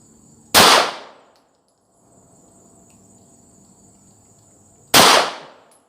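Two sharp, loud pistol shots from a Glock fired at a target, spaced about four seconds apart, each with a quick decaying echo over a steady faint insect-like hum.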